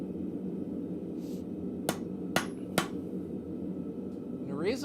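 Three sharp metallic hammer strikes ring out on an anvil at a blacksmith's forge, working hot metal down on a shoulder, spaced unevenly over a steady low background hum.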